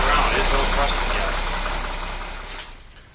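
A 1931 Chevrolet engine idles after carburetor work, a steady rough rumble that is loud at first and then slowly fades and settles, close by.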